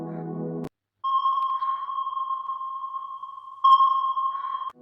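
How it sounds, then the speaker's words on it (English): A submarine's sonar sounds a sustained electronic ping tone, clear and fairly loud, holding for several seconds before a second ping starts, with no talk over it. "Submarine."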